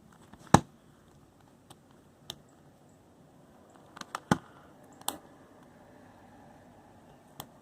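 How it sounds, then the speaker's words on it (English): A Mr. M Pyraminx puzzle is turned by hand, producing a handful of sparse, sharp clicks from its tips, close and quiet against near silence. "check if any of the tips are clicky in the middle of turns"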